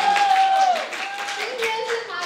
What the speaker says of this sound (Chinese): 拍手